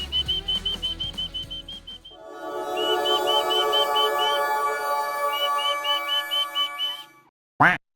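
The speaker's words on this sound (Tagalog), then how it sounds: "Sisipulan natin sila." Repeated short whistled notes from a person calling turkeys, a sustained melodic whistling phrase over a low droning background, then a brief sharp burst at the end.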